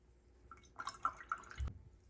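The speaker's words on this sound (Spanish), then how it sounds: "Lavo mi pincel." Watercolor paintbrush swished and rinsed in a water jar, a few quick splashy drips and clinks over about a second, close and fairly quiet.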